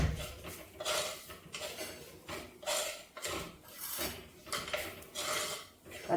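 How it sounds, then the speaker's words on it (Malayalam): A spoon scrapes a cooking pan in steady, repeated strokes as turmeric powder is stirred into the mixture, heard close and without talk. "ഇത് നന്നായിട്ട് ഇളക്കി കൊടുക്കാം"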